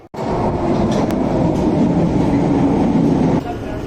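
A loud London Underground Bakerloo Line train in Train Sim World 2 rumbles steadily with rhythmic wheel clatter, the roar easing slightly near the end.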